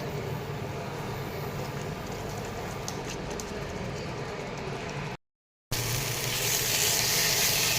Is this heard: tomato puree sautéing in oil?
yes